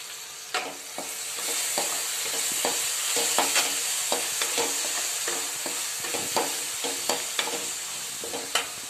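Finely chopped tomato sautéing in a pan with a little asafoetida, a soft steady sizzle punctuated by frequent rhythmic taps and scrapes of a spatula stirring, with no talking.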